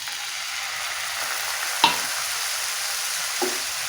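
Jaggery syrup with water being stirred in a pan over a medium flame: a steady soft hiss carries throughout, broken by two brief scraping clinks of a spoon, the first louder than the second.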